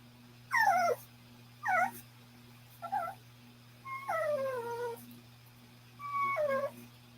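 A puppy whimpers and yips in five separate high, wavering cries with pauses between them, close and fairly clear over a steady electrical hum.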